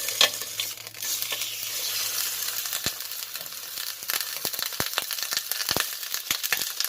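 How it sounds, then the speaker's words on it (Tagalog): Pork pata (pork leg) browning briefly in a little oil for humba, a close, steady sizzle broken by sharp scraping and clacking from stirring or turning the meat, with no talking. "I-golden brown lang natin saglit yung ating pata. Para magkaroon ng kulay. So, i-fried ko lang siya ng saglit guys."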